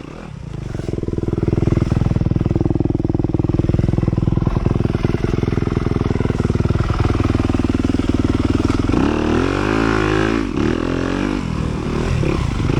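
A 2023 Yamaha YZ250FX dirt bike races in a harescramble at Windwood Farms, its engine droning loudly and continuously at close range, with the pitch rising and falling as the rider shifts and revs over rough ground.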